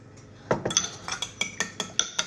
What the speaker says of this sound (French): Donc on mélange bien tout ça.